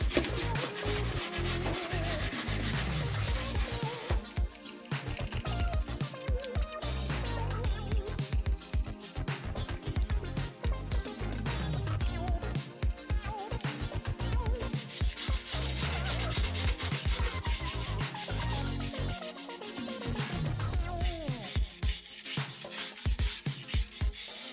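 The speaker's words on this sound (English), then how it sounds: "Once the wire brushing was done" Steady abrasive scrubbing and scraping from a wire brush working rust off the wheel arches of a Range Rover L322, continuous and close for the whole stretch with small shifts in pressure and no talking.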